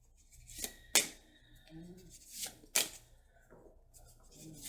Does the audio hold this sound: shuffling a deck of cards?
yes